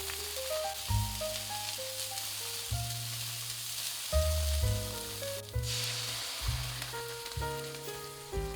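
Fried tofu puffs hit a hot wok where bay leaves, star anise and dried tangerine peel have been dry-fried. A continuous hissing sizzle runs throughout, with background music playing over it.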